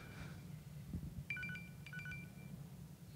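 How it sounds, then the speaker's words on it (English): A mobile phone rings with a short electronic ringtone, two quick bursts of bright tones over a faint room hum, fairly quiet and with no talking. "And my phone goes off."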